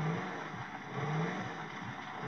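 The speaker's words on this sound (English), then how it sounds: "I'm driving slowly. Don't want to jump with my car." In GTA V, a car rolls slowly under a soft, steady engine hum that swells gently now and then. The sound is fairly faint, with no speech over it.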